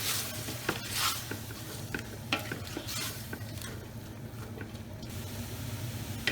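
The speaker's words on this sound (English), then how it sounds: "we just want to cook down our onion and capsicum now with our beef" Beef, onion and capsicum sizzle steadily in a pan for goulash while being stirred, a constant frying hiss broken by scraping stirs and a few light knocks of utensil against pan, close and with no talk.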